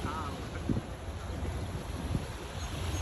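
Steady, rushing strong cold wind buffets the microphone close up on the Hudson River waterfront in Jersey City, with a low roar throughout and faint voices in the background.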